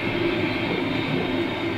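A snow train running between Melbourne and Albany gives a steady, loud rumbling drone with a low hum and faint rail noise, continuous and close, with no talk over it.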